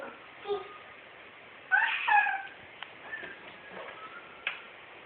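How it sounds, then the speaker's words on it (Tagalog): A cat meows once clearly and nearby, with a softer meow earlier and a few faint ticks and small noises in a quiet room. "Pusa. Meow."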